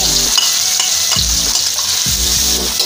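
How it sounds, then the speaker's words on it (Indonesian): Spice paste is being stir-fried in hot oil for spicy fried bean sprouts, making a loud, dense sizzle with rhythmic scraping stirs and low clunks of the utensil against the pan, and no speech. "langsung aja kita oseng-oseng bumbunya ya Bun"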